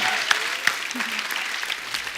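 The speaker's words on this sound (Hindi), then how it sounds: "जोरदार तालियां" A studio audience on a Hindi comedy talk show claps enthusiastically for a singer, a brief burst of mixed applause and cheering with a couple of sharper claps standing out, fairly close.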